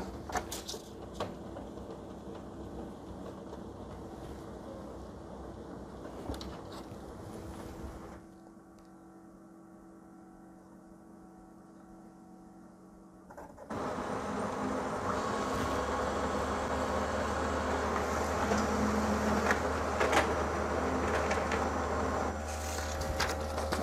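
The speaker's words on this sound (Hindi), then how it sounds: "अब मैं आपको इसका एक कॉपी करके दिखाता हूँ इस प्रिंटर से" A Brother laser printer fitted with a TNB021 toner cartridge runs a copy: a steady mechanical whirring and rolling, a quieter lull partway through, then louder continuous running close by with no talk.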